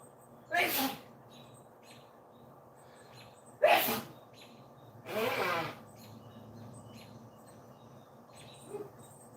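Three sharp sneezes spaced a couple of seconds apart, close and loud against a quiet room with faint background hiss.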